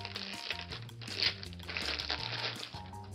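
Crinkling plastic bag being handled as an originally sealed Yugoslavian M1 (M9A1 clone) gas mask is pulled out through a slit along the seam, with close crackling and rustling bursts over a few seconds.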